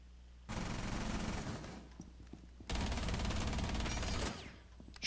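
Sustained automatic gunfire in a Rainbow Six Siege match played on PC, two loud continuous bursts of rapid shots separated by a short lull, fairly close.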